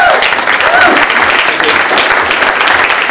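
Conference audience applauding Professor Stephen Collis at a State of Extraction plenary session, a dense, steady wash of clapping from a large room that holds at full strength throughout.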